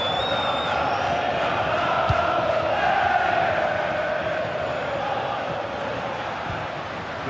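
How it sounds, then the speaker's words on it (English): A large stadium crowd at a football match roars steadily and loudly, a dense, sustained wall of cheering and chanting from a distance, with a faint whistle early on. "The crowd certainly think so. Just listen to them."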